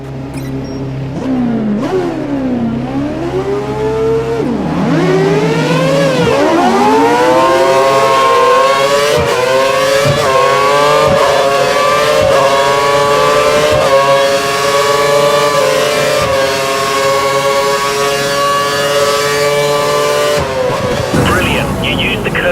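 An F1 race car engine in the video game F1 2013 screams up through the gears during an overtaking run, a loud sustained rising whine with repeated shifts and swells, sounding alone throughout.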